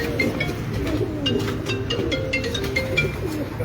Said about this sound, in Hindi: और ये हैं लाल परी कबूतर।